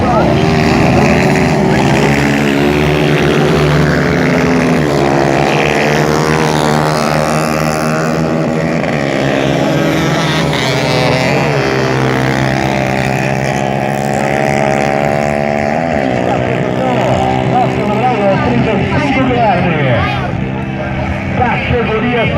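150cc motorcycles racing at a track in Caçapava do Sul, engines droning loudly and continuously with shifting pitch as bikes pass, mixed under a race announcer talking throughout.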